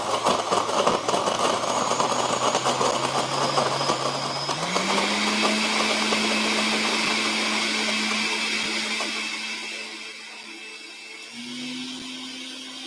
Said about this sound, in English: I'm about to put on this blender. Ready? Okay. And then we just blend.